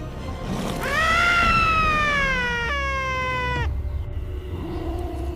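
A caracal and a honey badger clash at a den entrance, a loud, drawn-out wailing yowl rising and bending over a few seconds, then breaking into a second, shorter cry before fading into rustling.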